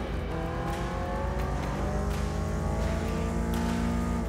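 Engine of a car driven through city streets in the open-world game Sleeping Dogs, a steady, loud revving drone with shifting pitch and faint tire noise, heard alone without speech.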